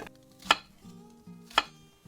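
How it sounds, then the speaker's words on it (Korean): A knife chops an onion into 1 cm squares on a cutting board, two sharp, close, distinct thuds about a second apart, with a faint low hum between them. "이제 양파 하나를 썰어 주겠습니다. 한 1cm 사각으로 썰을게요."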